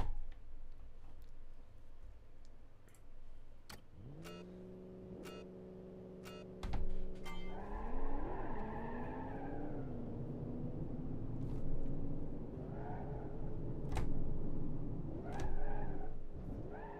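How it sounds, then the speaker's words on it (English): Video game cars rev and launch in a drag race on an abandoned airstrip, engine tones holding steady, then rising through gear changes as the cars pull away, with scattered ticks and clicks over a continuous drone. "Win this drag race on the abandoned airstrip"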